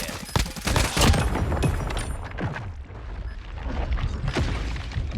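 Rapid bursts of Mythic FSS Hurricane gunfire in a video game, a dense run of loud close shots that pauses briefly mid-clip and then resumes, with no voice over it.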